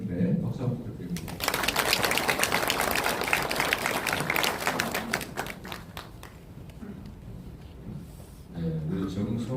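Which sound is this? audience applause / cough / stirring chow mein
audience applause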